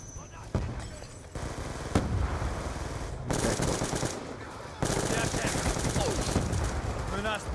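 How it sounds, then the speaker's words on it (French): Heavy machine gun fire from Black Ops 2 rattles in long, loud bursts, dense with rapid shots and punctuated by sharper blasts, while a player's voice seems to talk underneath. "Je crois bien que c'est une grosse mitrailleuse celle-là"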